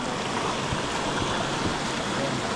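Hot river water flowing through the Bosque de la Primavera forest in Mexico, a steady broadband rush that stays even and close throughout, with no talk over it.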